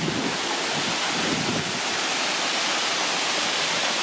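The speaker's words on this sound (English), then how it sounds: "This is Indian Falls" Indian Falls, a waterfall about 40 feet tall at DeSoto State Park, heard from a creek bridge as a steady, dense roar of falling water that stays constant with light wind buffeting and no talk.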